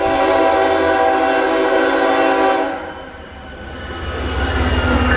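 A Colorado passenger train passes close by, a loud sustained rumble with a droning horn-like tone that cuts off partway and leaves a fading roar.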